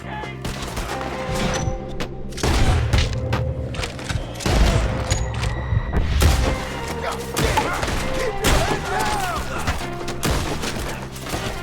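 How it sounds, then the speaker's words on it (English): Gunfire in Red Dead Redemption during a Skinner brothers fight, a rapid fusillade of booming shots and thuds running nearly continuously at close range, with game music and effects layered beneath. "Jesus, shots."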